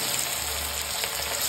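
Rohu fish pieces frying in a pan with a steady, dense oil sizzle, close and constant throughout.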